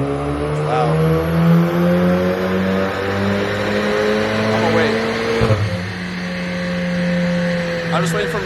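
Volkswagen GTI engine revs on a dyno during a tune, a loud sustained drone climbing and falling in pitch, with a sharp drop and re-rev partway through, voices faintly mixed in.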